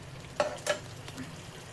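Biryani masala cooking in a home pan, with a couple of brief scraping stirs over a faint, steady low sizzle; no talking.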